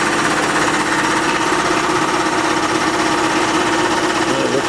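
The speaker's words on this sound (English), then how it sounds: "That's for the compressor for the air horn." Continuous loud mechanical droning and rattling, like a small air compressor for a rat rod's air horn running steadily close by without pause.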